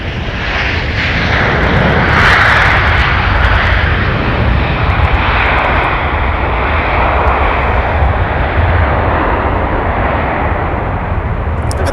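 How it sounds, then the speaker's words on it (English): An American Airlines Airbus A321 jet at Minneapolis–Saint Paul airport roars with a loud, steady engine rumble and broadband whoosh that holds for the whole stretch, close and continuous with no talking. "So there's our A321 to Phoenix for American Airlines."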